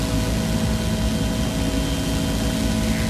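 A helicopter carrying a heavy load lifts off during construction of the Our Lady of the Rockies statue near Butte, Montana, its engine and rotor roar loud, steady and continuous with no talk.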